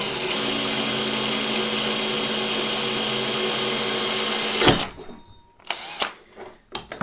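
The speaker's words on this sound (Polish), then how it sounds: "I teraz już wiercimy większym wiertłem" Power drill boring a hole in a mount for photovoltaic-system fuses, a steady loud motor whine that stops abruptly, followed by a few short clunks and handling knocks.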